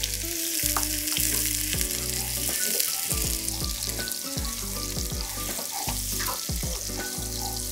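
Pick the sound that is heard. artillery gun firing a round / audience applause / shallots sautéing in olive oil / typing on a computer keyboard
shallots sautéing in olive oil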